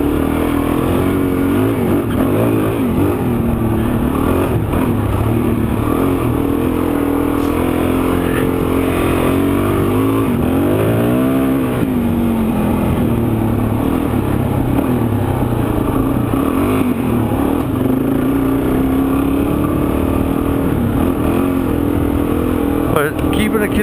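A dual sport motorcycle engine drones while riding through a deep sand wash in Arizona, a loud steady throttle hum with a brief rev swell midway and talking over it.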